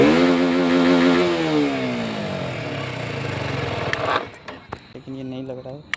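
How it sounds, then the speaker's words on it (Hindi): A KTM motorcycle engine revving loudly at close range with a rising and falling pitch, then dropping to a rougher idle with scattered clicks and knocks near the end. "और एक सेल्फ में स्टार्ट करके दिखाएंगे"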